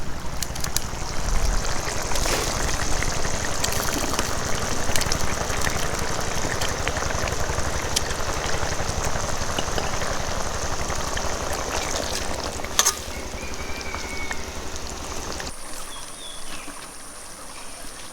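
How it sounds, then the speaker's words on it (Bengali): Curry gravy bubbles at a steady boil in a pan, a continuous close sizzle and gurgle; near the end the texture shifts and grows quieter as eggs go in. "এখন আমাদের তরকারির ঝোলটা ফুটে উঠেছে"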